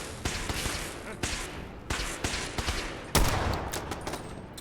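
In the video game Fallout, a hostile robot opens fire with sharp, rapid bursts of gunshots that come in uneven clusters, ending with a louder, denser volley.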